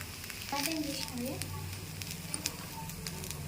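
Poha ponganalu sizzle steadily in a pan, a soft continuous frying crackle with occasional pops, while a person talks over it.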